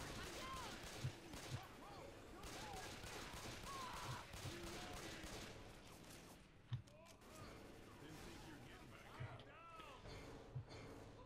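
Gunfire from the Left 4 Dead 2 video game: sustained rapid shooting runs under several people's voices, with a few louder single shots standing out throughout.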